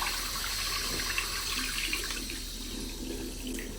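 Water runs steadily from a tap into a sink, a continuous soft hiss and gurgle at moderate distance with no voices.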